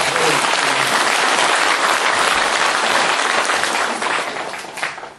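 A Busan audience breaks into loud, dense applause that holds steady and then tapers off at the end, with a faint voice beneath the clapping.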